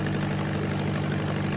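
A fishing boat engine running inside the engine room, a steady loud low-pitched drone with constant hum and no pauses.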